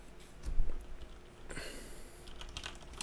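Quiet typing on a computer keyboard while remotely logging into a mining rig, with a brief sniff and soft scattered keystrokes close by.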